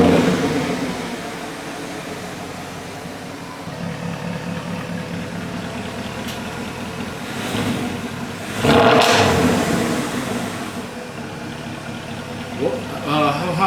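Porsche Cayenne with a welded-on muffler, its engine idling with a coarse exhaust rumble, then a sharp rev climbing and falling around the middle, recorded close with people talking over it.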